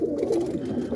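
Pigeons coo steadily in a loft, a continuous layered murmur of soft throaty calls from several birds close by, with no talk over it.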